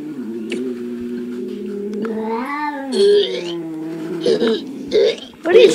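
A cat's drawn-out, wavering meow, close and loud, followed by several shorter yowls, with a person's voice briefly heard.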